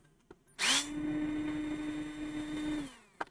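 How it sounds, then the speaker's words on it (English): Power drill boring into a varnished electric guitar body, a sharp bite and then a steady high whine held for about two seconds before spinning down, close and alone. "I hope I didn't just drill through the pickup that time."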